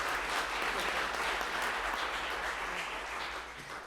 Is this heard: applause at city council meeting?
yes